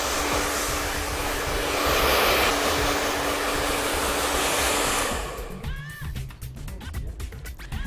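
A hair dryer blow-drying hair for volume, a loud steady whoosh close by for about five seconds, then cutting off into quieter handling and rustling sounds.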